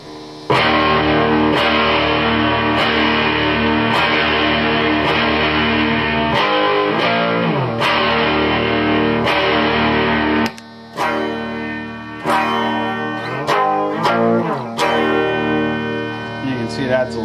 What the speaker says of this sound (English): You can see it adds a lot of brightness and tone to it, and full-on distortion.